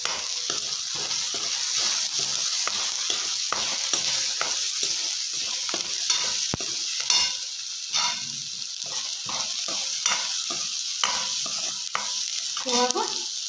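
Cabbage palya, a North Karnataka-style dish with softened tomato and turmeric, sizzles steadily in a pan while a spoon stirs it in repeated scraping strokes, loud and close, with no voices.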